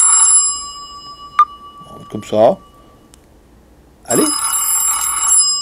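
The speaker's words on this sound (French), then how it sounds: "Voilà, sonnerie du téléphone." An Umi Hammer smartphone plays a bright chiming ringtone, loud and close, starting at the beginning and returning near the end, with someone speaking briefly and some handling clicks in between.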